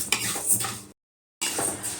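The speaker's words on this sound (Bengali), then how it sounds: "এবার আমি মুগ ডালগুলো ভালো করে ভেজে নেব" Mung dal dry-roasts in a wok, with a utensil scraping and clinking against the metal as it is stirred, interrupted by a brief silent gap.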